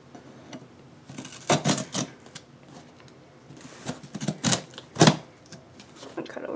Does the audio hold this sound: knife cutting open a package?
yes